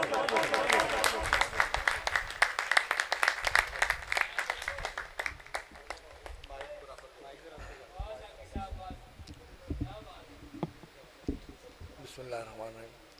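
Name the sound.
audience applause welcoming a poet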